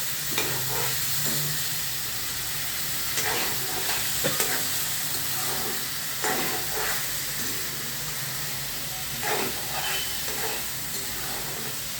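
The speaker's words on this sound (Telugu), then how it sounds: "ఎర్రగా వేయించుకోవాలా బంగాళదుంప టమాటా వండేటప్పుడు బంగాళదుంప మెత్తగా అవ్వాలండి" Potatoes and tomatoes frying in a pan for a curry give a steady sizzle and hiss, with occasional stirring clinks and scrapes over about twelve seconds and no voices.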